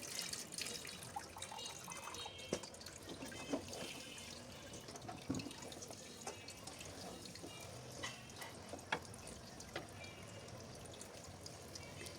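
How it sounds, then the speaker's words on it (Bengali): Water being poured into spiced beef curry ahead of pressure cooking, a faint, steady trickle with soft clinks and taps against the pot, heard up close in a quiet kitchen without talk. "যেহেতু আমি প্রেশার কুকারে রান্না করব, তাই একটু পানি দিয়ে দিলাম।"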